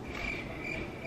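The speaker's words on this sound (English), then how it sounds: "Crickets. I gotta put the crickets in there." A crickets chirping sound effect plays as a steady, high, continuous trill, faint and alone without any talking.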